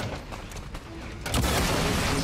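Pistol gunfire in the video game XCOM 2, with a couple of soft early pops followed by a louder, sharper shot and its rumbling tail, over a game background.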